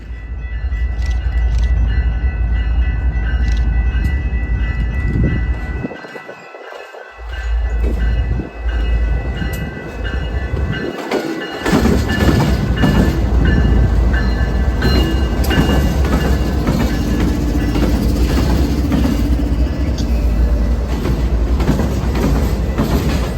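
CPKC freight train I-52 rolls past near Bensenville, a loud, close rumble of wheels and cars with rhythmic clacking and a brief dip in the low roar before the passing grows denser and busier.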